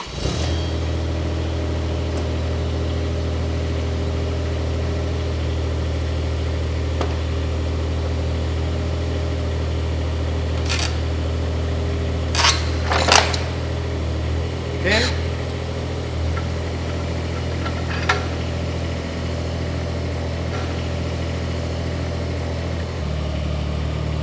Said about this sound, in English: Ed, start your engine.